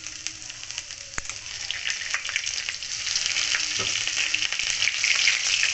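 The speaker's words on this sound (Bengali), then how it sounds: "ওই তেলের মধ্যেই আমি এবারে আদা দিয়ে দেবো, আর 2 থেকে 3টে কাঁচা লঙ্কা দেবো।" Ginger and green chillies sizzle in hot oil, a close crackling hiss that grows louder and busier over a few seconds, with one sharp tick early on.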